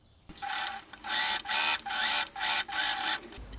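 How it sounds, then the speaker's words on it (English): Sewing machine top stitching along the fly of a pair of pants, running in five steady bursts of close, loud whirring, each a second or so long, separated by short pauses. "I top stitch."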